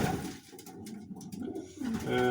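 A close, loud coo from a racing or homing pigeon, a throaty rolling call lasting a couple of seconds, with no talking.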